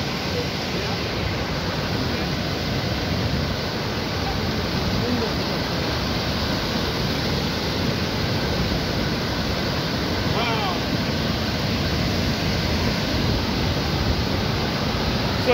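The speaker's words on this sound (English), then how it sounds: "So this is the waterfall." Steady, dense roar of rushing water from a waterfall in Liberia fills the whole clip, broad and unbroken, with no clear voices.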